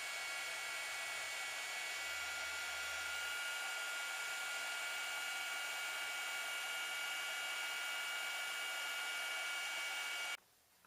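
A heat gun blows steadily with a constant high whine and airy hiss as it heats rhinestone earring settings for soldering, close and unbroken before it switches off abruptly near the end.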